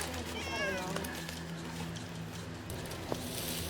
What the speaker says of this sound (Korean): 저기 이모차 안에 있는 게 고양이에요?